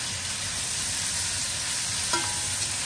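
Onions frying in a covered pan on a stovetop turned up high, giving a steady loud sizzle throughout with one brief clink partway through and no talking.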